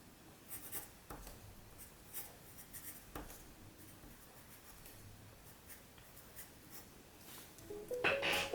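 Quiet scratchy strokes of a pen or pencil as a finished hand drawing is signed on paper, close and soft, in short irregular bursts with no talking.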